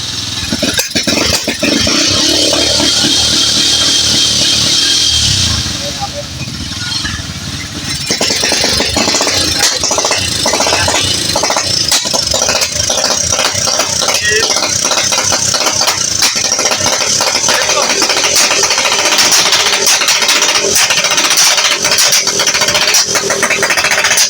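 Engine revved hard and fast with sharp backfire pops, a loud rough roar and rattle running nearly throughout, dipping briefly around the midpoint before surging again.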